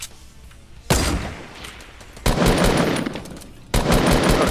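Bursts of automatic gunfire in the Fortnite battle royale game, three loud sustained volleys starting abruptly one after another and continuing through most of the stretch, with no voices over them.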